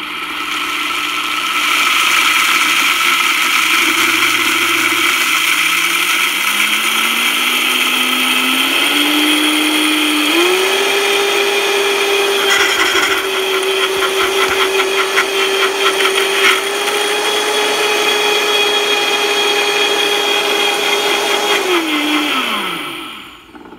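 A Vitamix blender with a personal cup adapter grinds spices and a cinnamon stick, starting with a low hum, then rising as the motor spins up into a loud sustained whir with rattling grit, before winding down sharply at the end.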